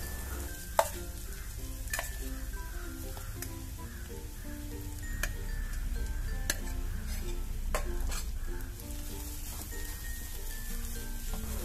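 Grated coconut is stirred into roasted cashews and raisins in a pan, giving a soft continuous frying hiss with regular light scrapes and taps of a spoon against the pan.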